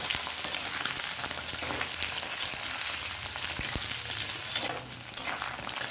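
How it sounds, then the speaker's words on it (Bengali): Potato and pointed gourd fry in a pan over medium flame with a dense, steady sizzle, close by, with an occasional stirring clatter and no voices. "গ্যাসটাকে এবার মিডিয়াম ফ্লেমে রেখে আলু পটলটা 3 থেকে 4 মিনিট ভেজে নেব"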